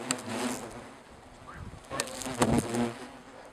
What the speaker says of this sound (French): laisser écouter le chant des frelons, pas contentes du tout, les ouvrières